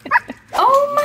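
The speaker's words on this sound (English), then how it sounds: "Whoa, I hear Georgie barking at you." A small dog gives a quick yip and then a sustained whining bark indoors, loud and close, in a single short burst with a voice nearby.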